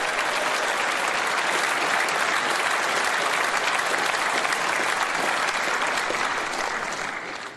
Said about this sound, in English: So let's give Kemi a big Reform round of applause.